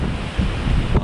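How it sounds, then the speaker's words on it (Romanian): A brief blast of strong mountain wind roaring and buffeting against the microphone at a summit cabin in Romania, rumbling low and gusty throughout. "Toată noaptea a bătut vântul ăsta."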